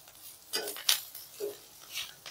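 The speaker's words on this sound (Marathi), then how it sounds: "आता फिरून घेऊ त्याला." A utensil stirring egg bhurji masala in a pan, several distinct metallic clinks and scrapes spaced irregularly across a couple of seconds, close and moderately quiet, with no talking.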